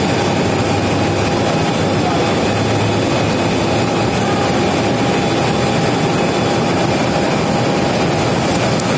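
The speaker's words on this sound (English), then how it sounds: "This is American Airlines, flight 1633. It's a 737-800." An American Airlines Boeing 737-800 jet departs Phoenix Sky Harbor Airport for San Antonio. A loud, steady broadband engine roar fills the whole stretch without letting up.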